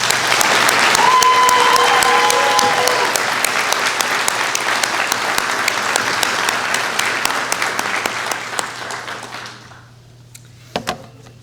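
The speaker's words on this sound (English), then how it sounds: "Let's have another round of applause." An audience at a class of 2023 commencement ceremony applauds in a loud, dense wash of clapping that holds steady, then thins and fades out near the end, with a few stray claps.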